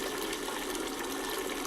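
Yellow water drains steadily from model pee pipes sized for a rhino, a human and a dog, a continuous faint gushing rush without breaks or talking.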